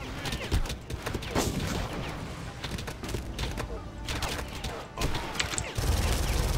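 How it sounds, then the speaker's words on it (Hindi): Dense, continuous gunfire from a Far Cry video game firefight, with rapid overlapping shots and bursts filling the whole stretch, loud and close, some heavier impacts mixed in. "मुझे पीछे से भी गोलियां पड़ रही हैं यार।"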